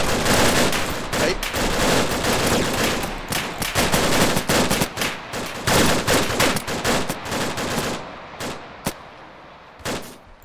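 Dense, loud video-game gunfire in a tactical shooter, sustained automatic bursts and overlapping shots that thin out into scattered single reports toward the end.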